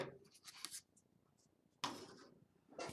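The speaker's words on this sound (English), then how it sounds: "cut our first piece." Scissors cut through a piece of kite string for a tetrahedron kite frame, two short crisp snipping bursts separated by a quiet pause, close and fairly faint.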